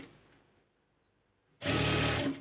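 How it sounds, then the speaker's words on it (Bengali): A sewing machine stitches a pajama, starting up after a quiet pause into a loud, close, steady, fast mechanical whirring hum that runs for about a second. "তো সে কারণে আমি এই ইনসাইড থেকে সেলাইটা দিব এভাবে করে"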